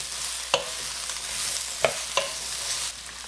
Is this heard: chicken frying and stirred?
yes